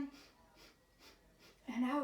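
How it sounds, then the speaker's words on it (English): Soft breaths in and out during a mat Pilates exercise, a few faint rhythmic puffs before a voice begins speaking near the end. "Breathe in and out."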